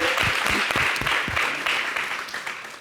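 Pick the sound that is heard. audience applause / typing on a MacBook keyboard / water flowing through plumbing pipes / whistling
audience applause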